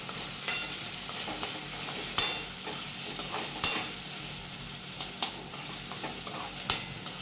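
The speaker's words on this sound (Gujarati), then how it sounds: "હવે થોડી નાખશું કુબી. હવે આ રીતે હલાવી જાઓ." Cabbage is stirred and sautéed in a pan for pasta, with a soft continuous sizzle under repeated scraping taps of a spoon against the pan at an irregular pace.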